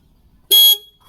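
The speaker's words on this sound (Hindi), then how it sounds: "तो एक बार साउंड सुन लेते हैं गाड़ी की, हॉर्न की।" Single car horn blast from a Maruti Suzuki Celerio Zxi, a sharp, bright honk lasting about a quarter second, loud and close, alone with near silence before and after.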